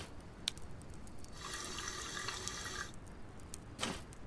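Water running from a dispenser machine in a point-and-click adventure game, a steady watery pour of about a second and a half with small drip-like clicks before and after, moderately quiet with no talk.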